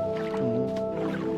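Water in a farming video game, heard as soft dripping and squishing liquid sounds over a steady tonal music or ambience bed, continuous and moderately loud throughout.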